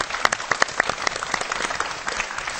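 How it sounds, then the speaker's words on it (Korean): A studio audience at a televised education program applauds steadily, with dense, even clapping close by that continues for a few seconds. "한번 박수로 좀 맞아주십시오."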